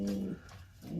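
Young blue bar pigeons coo softly, with one low, steady coo at the start and another rising at the end, close by and with no voices.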